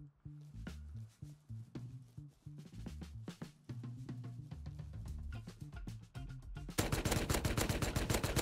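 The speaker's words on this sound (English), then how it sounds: "I think I'll be able to shoot him in the back" Gunfire in the video game Rust: bursts of rapid shots and single cracks ring out irregularly, building to a dense, louder stretch of sustained fire near the end.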